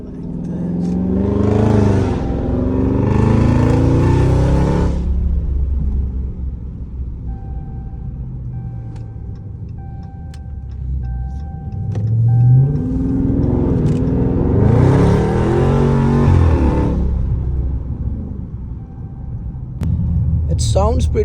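A Dodge Charger Scat Pack fitted with a 3-inch straight pipe and mid muffler delete rumbles at idle, then snarls through two loud, separate revs, each climbing and falling back to a lumpy, throaty burble.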